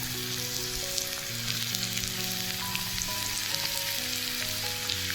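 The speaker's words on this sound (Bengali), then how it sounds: "দেখতে পাচ্ছি এই তো আলুগুলো দিয়ে দিচ্ছি।" Potatoes frying in a hot pan at home, a steady close sizzle and crackle throughout with no talk, over soft tonal background music.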